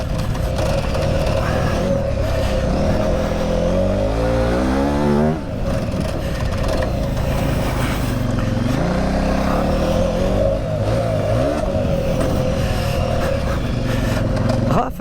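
A loud KTM 950 Super Enduro motorcycle engine revs up and down repeatedly with rising and falling pitch sweeps, running continuously close by, with occasional voices underneath.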